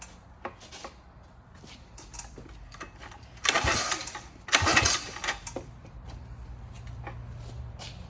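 Small engine pull-started during a compression test: two loud bursts of rapid cranking as the cord is yanked, with quieter clicks and handling noise around them.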